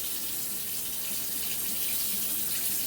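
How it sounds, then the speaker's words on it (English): Hot water poured from a tap-like stream into a cup while making chocolate fudge pudding, a steady, close splashing hiss that runs without pause and with no talking. "You want to put the hot water in there."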